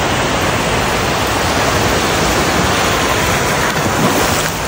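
Broadband rush of sea waves and wash heard from a boat on the ocean near Australia, a loud, steady wall of surging water with no break, wind mixed in, and no voices.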